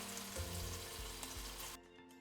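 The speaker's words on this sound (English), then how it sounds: "Now let it do its thing, let it brown up, keep that surface area as much as you can on the bottom of the pan" Beef pressed flat in a hot pan to brown, giving a steady, loud, crackling sizzle with no voices before it suddenly cuts off near the end.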